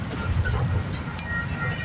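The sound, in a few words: CP freight train passing on rails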